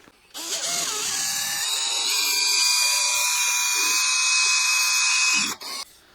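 A power drill bores a 7mm hole into a Telecaster guitar body, a steady high-pitched whine running about five seconds at close range before spinning down and stopping, with no talking.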